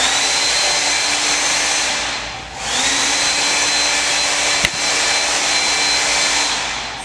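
A blow dryer runs continuously at close range, drying paint on a canvas. Its steady whooshing roar dips briefly once as the airflow shifts, then resumes at full strength.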